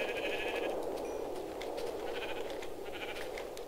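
Sheep bleat in a video game over a steady background drone, with a few short, mid-loud calls spread across the clip.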